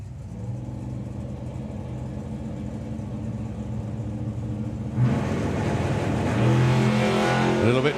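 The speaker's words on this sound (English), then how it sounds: "A little bit tamer on the launch this time for Graham" A drag racing car launches down the strip at a national finals event, its engine roar building steadily and surging louder partway through, with an announcer talking over it.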